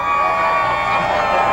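A lively outdoor crowd at the WaterFire evening event cheers and shouts steadily, with a dense, continuous wash of voices and whoops at close-to-moderate distance and no single voice standing out.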